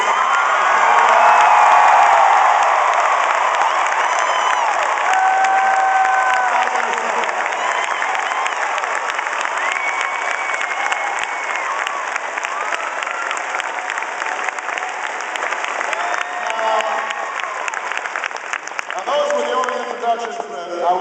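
A large crowd at a pre-election night rally in Pittsburgh applauds, cheers and whoops for about twenty seconds, loudest at the start and staying dense and continuous, with shouts rising through the clapping.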